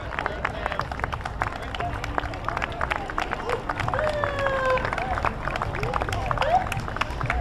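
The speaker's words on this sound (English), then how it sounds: "Always nice applause for these guys as they go through." Scattered clapping from an outdoor crowd at the Lilac Parade in Rochester, New York, with murmuring voices and a few whistles over a busy background.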